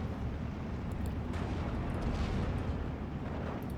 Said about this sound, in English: So our Marder starting to get shelled again by those mortars that were in here.